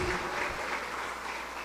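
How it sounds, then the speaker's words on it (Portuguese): Loud, continuous applause fills a church worship service, a dense wash of clapping from a congregation that holds steady throughout with no talk over it. "Vamos aplaudir bem forte o Senhor, que Ele merece."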